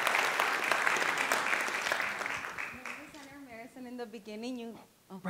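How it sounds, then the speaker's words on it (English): A live audience at a brain master class gives a lively round of applause for a student, loud at first and fading as a person starts speaking over the last couple of seconds. "Please give her a round of applause for coming over here."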